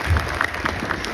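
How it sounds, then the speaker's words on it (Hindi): Audience applause at a bodybuilding competition, the Khan Classic, a brief steady patter of many hands clapping throughout. "ताली बजा दीजिए।"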